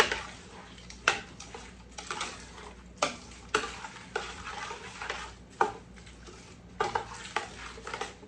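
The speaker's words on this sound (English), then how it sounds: "now I'm going to give that just a little stir" Peach BBQ sauce with ancho chili powder is stirred in a pot, making a series of sharp spoon knocks and scrapes about once a second over a quiet bubbling sizzle.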